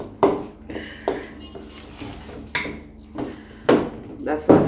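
Repeated clanks and scrapes of a utensil against a pot of Jamaican sweet potato pudding batter being stirred and chopped outdoors, irregular knocks every second or so, with someone talking in the background.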